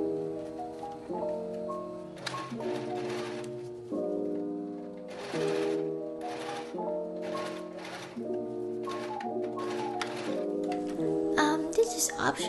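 Sewing machine stitching the waistband of a thong, repeated bursts of rapid mechanical whirring and clatter in short runs with brief pauses between them, close and clear.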